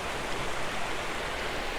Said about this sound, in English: I'm looking up straight at the waterfall.